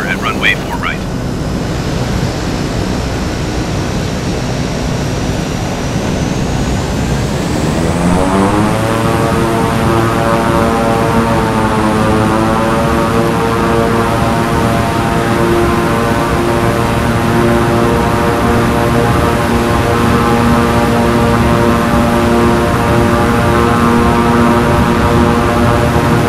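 Aircraft engine in Microsoft Flight Simulator spooling up for takeoff, a loud steady drone that rises sharply in pitch partway through and then holds a strong sustained roar.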